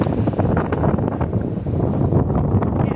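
Strong wind at Puri buffets the microphone with loud, continuous low rumbling and gusty roar throughout.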